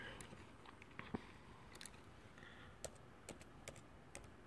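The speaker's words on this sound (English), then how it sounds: "I'm typing start again." Keys on a computer keyboard click in a few sparse, faint taps against a quiet room hiss, with irregular gaps between strokes and no talking.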